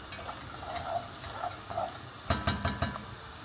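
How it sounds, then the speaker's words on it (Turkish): Soft sizzling of chopped onions frying in olive oil in a pan, steady and low, with a few louder stirring scrapes near the end. "Pembeleşinceye kadar kavuralım."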